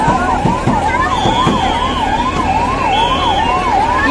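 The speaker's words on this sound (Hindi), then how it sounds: "यहाँ पर एम्बुलेंस आ चुकी है" Ambulance siren wailing loudly and steadily in a rising-and-falling pattern at a Rath Yatra chariot procession, with crowd noise underneath.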